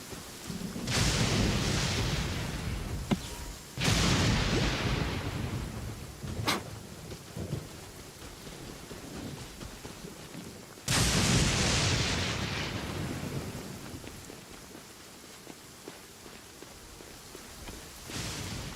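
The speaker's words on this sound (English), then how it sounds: "If this rain keeps up, my fur will be dripping wet." Heavy rain and rolling thunder in the Genshin Impact video game, with several loud booming thunderclaps that crash in and slowly decay over a steady wash of rainfall.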